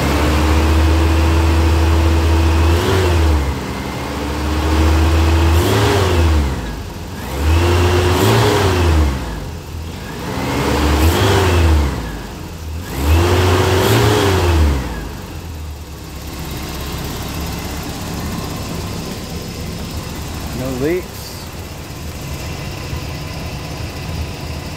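A Toyota engine runs during a coolant system bleed, revved up and down several times in a repeating pattern, then settling back to a steady idle, close and loud.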